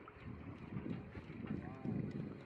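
Low, steady wind buffeting the microphone at a seaside fishing spot on the Saemangeum coast at high tide, a faint continuous rumble, with people talking nearby.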